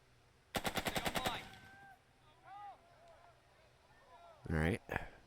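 Rapid machine gun burst of about eight sharp, loud shots in quick rhythm from the tactical war game Burden of Command, followed by radio-like game chatter and another heavy blast near the end.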